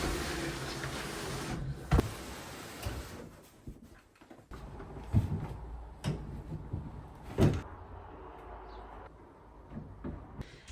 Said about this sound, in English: I need to get these drawers into the van all by myself